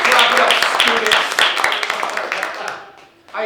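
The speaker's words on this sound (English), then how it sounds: "Clap it up, students." Students clapping at a school assembly, a dense burst of applause mixed with voices and cheering that fades out, then a brief voice at the end.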